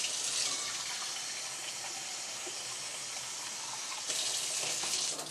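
Warm water runs steadily from a tap for homemade bread dough, a continuous close hiss with no voices that swells a little louder near the end.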